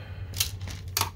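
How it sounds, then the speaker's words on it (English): Tool pushing through a cardboard work mat while servicing a BenQ HT1085ST DLP projector, two brief crisp scraping crunches about half a second apart over a low hum. "It sounds like I just pushed through my cardboard."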